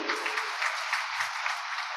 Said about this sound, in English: Can we please applaud them more resoundingly?